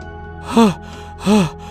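A person out of breath after running gives two heavy, voiced panting breaths about half a second apart, close and clear against a quiet background.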